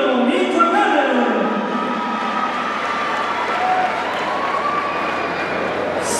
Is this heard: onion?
no